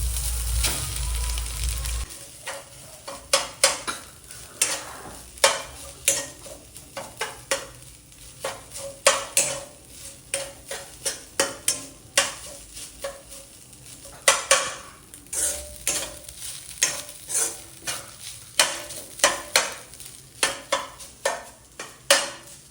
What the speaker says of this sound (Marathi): आता तूप चांगलं गरम झालेलं आहे, तर त्यात मी आता किसलेलं खोबरं टाकतोय.